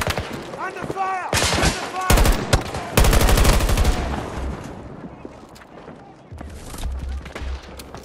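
Bursts of video game gunfire, including rapid machine-gun volleys, crackle loudly amid shouted voices and game chatter, easing into quieter rumbling toward the end.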